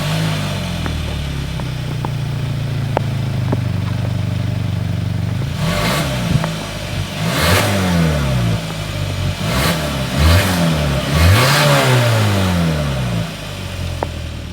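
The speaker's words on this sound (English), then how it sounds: "as always, here is that exhaust clip" Exhaust of a 2025 Hyundai Santa Cruz pickup revving repeatedly: after a steady idle, several sharp rising revs climb and fall back, loud and close, with no talking.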